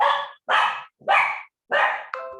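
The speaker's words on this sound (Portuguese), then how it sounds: "Meu cachorro latiu." A dog barks four times in quick succession, loud and close, with short gaps between barks and a brief higher yelp at the end.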